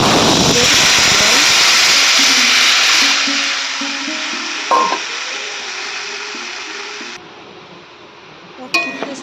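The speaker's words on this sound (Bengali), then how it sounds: "টক ভালো করে ফুটে গেছে" Tamarind sour curry simmers in a wok, a loud steamy hiss and bubbling that fades gradually, with a couple of sharp clinks near the end.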